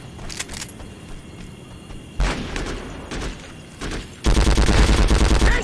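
Gunfire in the shooting war game Breakout Conflict Global Storm: scattered sharp shots, then heavier bursts, ending in a loud, sustained barrage of rapid fire.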